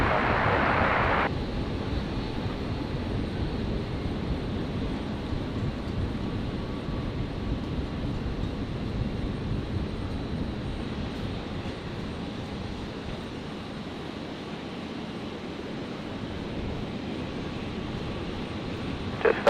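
An airliner lands on runway 01 left at Brisbane Airport, a steady, moderately distant engine roar that holds evenly and then eases slightly toward the end, with no voices.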